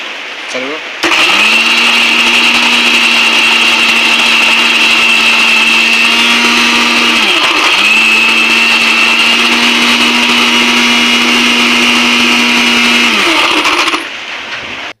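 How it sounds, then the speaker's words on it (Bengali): Coconut being ground to a pulp in an electric mixer-grinder: a loud, steady motor whir that pauses briefly midway, then runs on before stopping near the end. "নারকেলটাকে গুঁড়া করে নেব।"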